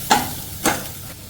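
Onions frying in a pan with ginger garlic paste are stirred, two scraping sweeps of a spoon over a constant soft sizzle, close and fairly loud.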